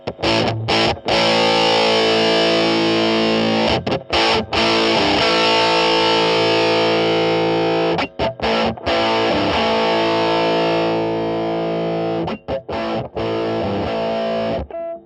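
An electric guitar through a modded RAT distortion pedal plays heavily distorted sustained chords with brief gaps, loud and continuous, while the filter control is swept and the tone shifts in brightness.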